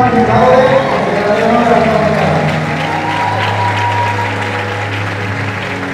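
A university graduation audience in the Caribbean applauds a graduate, a loud, dense, sustained burst of clapping that tapers slightly toward the end, with a low hum and voices mixed in.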